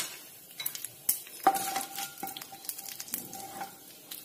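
Cumin, mustard seeds and asafoetida sizzle in hot oil in a pan as a spoon stirs them, giving soft frying crackle broken by a few light metallic scrapes and clinks, quiet and close, with no talking.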